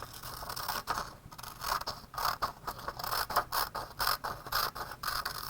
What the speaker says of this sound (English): When I'm done, I can use scissors to cut out my artwork.